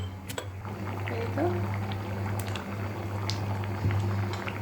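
Dried fish curry bubbles in a pot with onion and garlic paste, a steady low simmer with occasional faint clinks, under a constant low hum.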